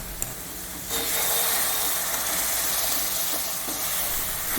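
Coconut milk hitting a hot sugar and semolina mixture sets off a sudden, loud, steady hiss that holds for several seconds close by.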